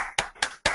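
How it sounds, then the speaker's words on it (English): An audience gives a group rhythmic clap in three sharp, loud, evenly spaced bursts, each a single massed slap with a short ringing decay, with no talk over it. "Let's give Micheal Bernoff the Prosperity Course clap"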